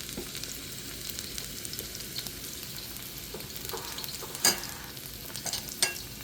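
Crushed ginger and garlic sizzle steadily in about a quarter cup of hot olive oil, a continuous near crackle with a couple of sharper pops and scraping stirs along the way.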